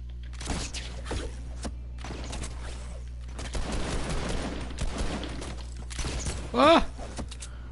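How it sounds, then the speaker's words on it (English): A burst of rapid gunfire breaks out amid cluttered game noise and thuds, ending in a louder sharp blast. "I heard gunshots."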